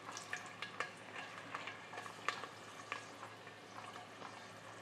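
Stirring ingredients around in a cooking pan for tomato rice, with a steady quiet sizzle under a run of soft, irregular scraping and clinking strokes, close by and with no talking.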